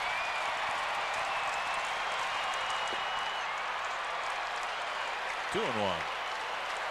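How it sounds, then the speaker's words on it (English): Baseball stadium crowd at a 1998 Seattle at Minnesota game, a steady broad wash of cheering and applause running under a play-by-play announcer's voice throughout. "Oh, nice to hear the crowd getting into this."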